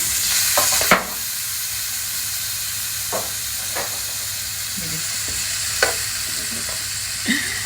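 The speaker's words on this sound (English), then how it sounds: "which we're going to quickly fry roughly for about a minute" Ingredients for escovitch fish fry in a hot pan with a steady, close sizzle and hiss, broken by a few sharp clinks of stirring utensils.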